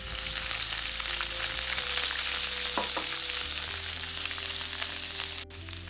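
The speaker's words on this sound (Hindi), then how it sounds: "थोड़ा सा हम इसको हिलाएंगे" Ginger paste and asafoetida sizzle steadily in hot oil in a pan while being stirred. The loud, continuous frying hiss is broken by a few scraping stir sounds.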